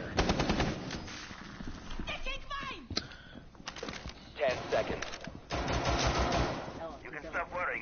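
Suppressed gunfire in a video game comes in rapid, muffled bursts and scattered single shots, mixed with frequent overlapping chatter from players.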